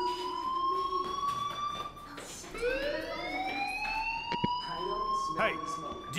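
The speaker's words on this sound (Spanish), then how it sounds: "Hey, do you hear that fire alarm? That means you should be outside." Fire alarm ringing in the video game Life Is Strange, a continuous electronic wail with rising and falling pitch sweeps, fairly loud and steady under occasional game sounds.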